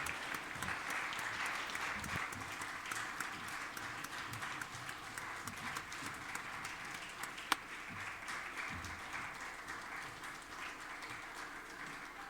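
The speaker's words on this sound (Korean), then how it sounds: "들어갈 때까지 박수 치십시오." A church congregation at a Sunday service claps steadily together, a dense, even wash of hands that continues for the whole stretch with a single sharp clack partway through.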